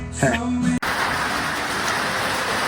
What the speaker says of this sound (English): Bit of a sun shower. The raindrops are huge.